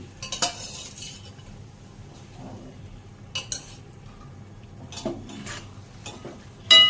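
Whole green chickpeas and potatoes stirred gently in a pot, with a few scattered scrapes and clinks of a spoon against the metal over a quiet background.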